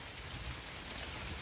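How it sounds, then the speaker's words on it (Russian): Long-awaited rain falls on the ground outdoors, a dense, steady patter close by and constant throughout. "Дождичек идет, насыщает землю, которой он был так необходим."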